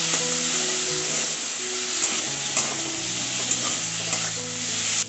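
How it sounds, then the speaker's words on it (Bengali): Turmeric, cumin and coriander powders with green chilli paste sautéing in a pan, a continuous close sizzle with steady stirring scrapes throughout, no talking. "কাঁচা লঙ্কা বাটা সব মশলাগুলোকে খুব ভালোভাবে একটু কষিয়ে নেব"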